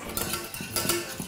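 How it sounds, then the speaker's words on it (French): Pastry cream being mixed in a pan with a utensil, a few soft scraping clinks of metal against the pan close by, with no talking. "On mélange."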